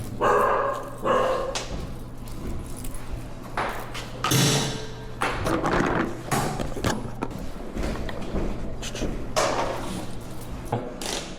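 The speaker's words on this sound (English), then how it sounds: "dogs in our neighborhood, they don't shut up" Dogs in a neighborhood barking in several sharp bursts spread across the stretch, some nearer and some farther off, with rattling and bumping noises in between.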